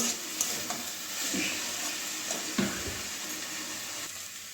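Noté greens with peanuts are stirred in a frying pan, giving a soft continuous sizzle broken by several short scraping knocks of the spatula, close and fairly quiet.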